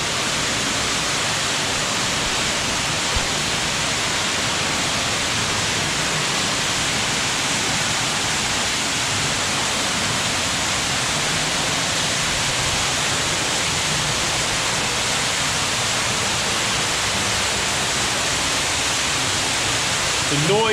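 Loud, constant roar of a waterfall inside a cave in the Yorkshire Dales, filling the space, steady and enveloping with no breaks.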